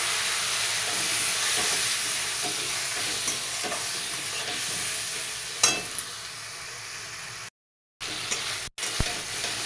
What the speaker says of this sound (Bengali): এর ভেতরে এবার সমস্ত গুঁড়ো মশলাগুলো ঢেলে দিলাম আমি, দিয়ে ভালো করে কষিয়ে নেব।